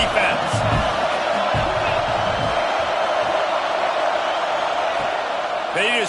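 A football stadium crowd roars steadily behind the defense on a big third down, a loud, dense wall of cheering that holds for several seconds with a commentator talking over it.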